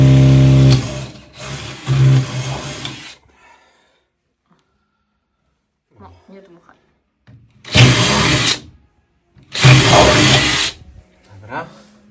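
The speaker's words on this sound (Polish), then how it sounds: "Wiertarka, wkrętarka." A cordless drill driver whirring in short bursts aboard a sailing yacht under construction, loud and close, with several separate runs spread across the stretch and quiet gaps with faint handling noise between them.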